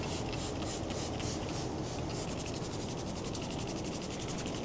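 A brush scrubs a filthy bicycle drivetrain in quick, rhythmic, rasping strokes, faint and close, running steadily without speech.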